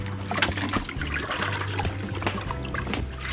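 Water sprinkles out of holes drilled in the bottom of a former molasses bucket onto garden plants, a steady, close patter and trickle like a gentle shower, with small splashes and drips throughout.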